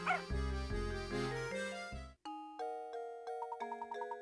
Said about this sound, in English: The little robot dog is finally assembled.